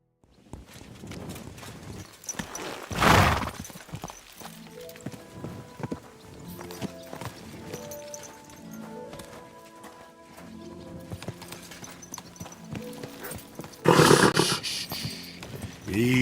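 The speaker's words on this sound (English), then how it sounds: "Easy, good horse." Horse hooves in the video game Kingdom Come: Deliverance II clip-clop steadily over soft background music, with loud whinnying bursts near the start and again near the end.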